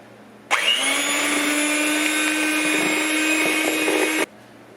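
An electric hand mixer whirs steadily through banana bread batter in a kitchen, a loud even motor drone that starts abruptly, holds for nearly four seconds and cuts off sharply, with no talking.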